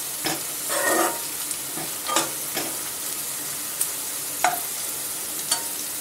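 Peanuts fry in a pan for vegetable rava upma, giving a soft steady sizzle broken by scraping stir strokes and light clinks of a utensil, close and moderately loud.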